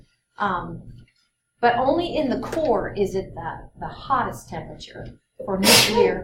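One sharp, breathy sneeze bursts out near the end, after a stretch of a person talking in a classroom lecture setting.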